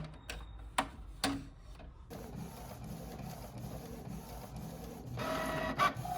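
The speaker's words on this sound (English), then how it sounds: "I'm going to click OK, and then I'm going to print this out." An inkjet printer runs a sticker sheet, starting with a few sharp clicks and clunks, then settling into a steady mechanical whir of the print head shuttling back and forth, growing a little louder near the end.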